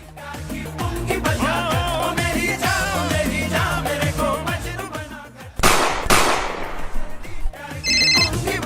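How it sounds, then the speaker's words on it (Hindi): Two sharp, loud bangs from a gunshot sound effect in a Hindi comedy skit burst out right after a ringtone-style melody, then the tune carries on. "हेलो साहब, दोनों को गोली मार दी।"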